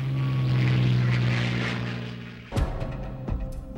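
WWII carrier propeller airplanes taking off give a loud, steady droning engine roar that swells and then fades, followed by a few sharp knocks and clanks nearby.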